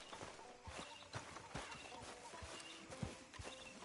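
Horse hooves clip-clop at a walking pace in Red Dead Redemption 2, a series of distinct, fairly close hoof strikes over faint outdoor ambience.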